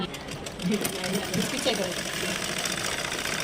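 A sewing machine stitches fabric with a fast, rhythmic mechanical chatter and hum, close and steady, while people talk over it.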